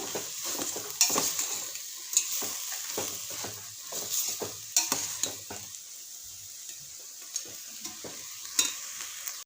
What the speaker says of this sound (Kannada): ಎಲ್ಲ ಸೇರಿಸಿ ಚೆನ್ನಾಗಿ ಮಿಕ್ಸ್ ಮಾಡ್ಕೊಳ್ಳೋಣ